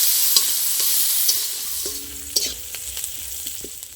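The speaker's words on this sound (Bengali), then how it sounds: "পেঁয়াজটা একটু ভালো করে লাল লাল করে ভেজে নেবো" Chopped onions sizzle steadily in hot mustard oil, a bright hiss broken by occasional scrapes and clinks of a spoon stirring the pan.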